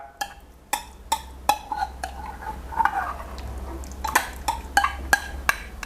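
A spoon stirs sago into a custard jelly mixture in a metal pot, knocking and scraping against the sides in a steady rhythm of sharp clinks, roughly two per second, close up.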